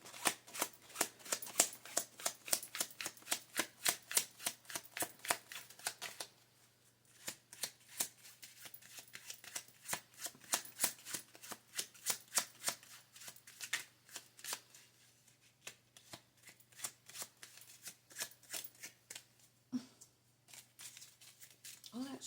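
Rapid riffling of playing cards being shuffled, repeated in bursts, close and crisp, with a brief pause partway and a few faint voices near the end.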